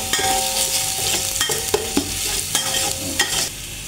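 Garlic frying and being stirred in a pan for a stingray curry, a steady close sizzle broken by repeated scraping stirs, with no voices.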